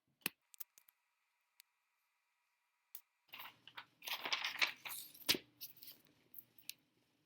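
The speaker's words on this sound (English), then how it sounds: "Right now I'm cutting slits in the hole because I'm going to want to hem it, the wool" Scissors snip slits in wool fabric being prepared for hemming on handmade boots. A few isolated cuts come first, followed by a denser run of crisp, close snips and rustles.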